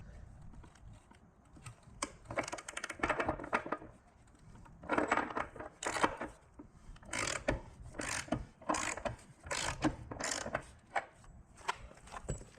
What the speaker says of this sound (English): let's break the nut loose